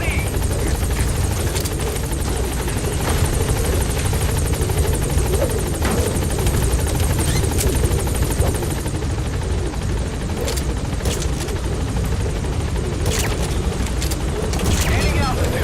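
Pequod's transport helicopter in Metal Gear Solid V: The Phantom Pain, a loud, continuous close rotor thump and engine roar sustained throughout as it climbs, with voices faintly underneath.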